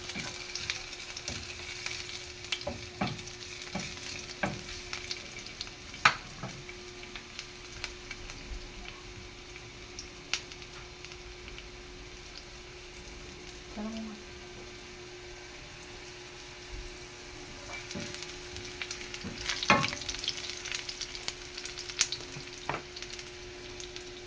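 Garlic sautés in a pan with a soft, steady sizzle and crackle, punctuated by occasional sharp clicks and stirring scrapes, close but fairly quiet over about twenty seconds without speech.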